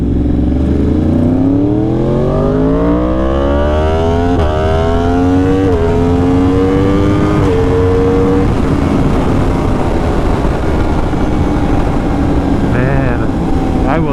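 A Yamaha R1 motorcycle engine revs loudly and close, its pitch climbing through repeated rising sweeps and gear changes, then settling into a sustained high-revving drone.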